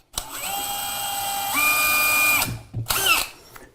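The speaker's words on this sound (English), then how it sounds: "This is why pre-drilling is so important." During a kitchen remodel, a power drill pre-drills a screw hole in two bursts: a long whine that rises in pitch partway through, a short pause, then a brief second spin.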